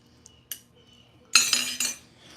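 A spoon stirring a drink in a glass: a few quick, bright metallic clinks close by in an otherwise quiet moment.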